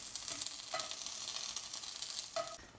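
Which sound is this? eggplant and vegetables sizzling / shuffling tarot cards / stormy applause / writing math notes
eggplant and vegetables sizzling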